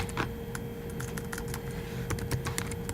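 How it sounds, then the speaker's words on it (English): Quick, uneven keystrokes clatter on a computer keyboard while a website address is typed in, close and clear, with no voices. "Pretty self-explanatory, and you type it in."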